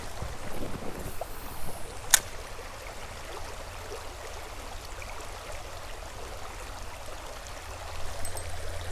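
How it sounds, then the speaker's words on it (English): Creek current pouring into a deep trout hole, a steady broadband rush of flowing water close to the microphone with light wind buffeting and one brief sharp click early on. "You got some nice current flowing into it."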